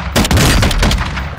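Loud, close gunfire in Call of Duty: Modern Warfare 2 DMZ mode, a rapid automatic burst of repeated shots filling the whole moment with no talk.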